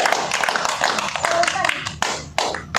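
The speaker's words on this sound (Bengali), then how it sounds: "ইয়েস, তাদের হাততালি। তাদের করতালি হবে।" Girls clap in a short burst after a ball lands in the basket during a throwing challenge, sharp claps scattered over lively overlapping voices nearby.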